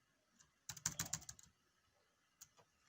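Quick bursts of computer keyboard typing, a short flurry of clacking keys followed by a couple of isolated taps, faint and close in a quiet room.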